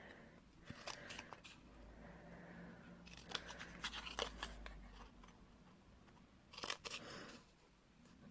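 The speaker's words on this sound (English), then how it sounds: "cut up all of these, cutting away that score line, making it effectively like little tabs" Scissors snip paper tabs along the score lines of a handmade papercraft box, close and crisp, with clusters of quick cuts separated by quieter pauses and faint paper rustling.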